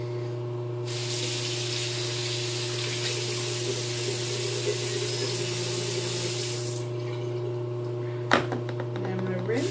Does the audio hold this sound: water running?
yes